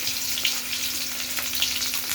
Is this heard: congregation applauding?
no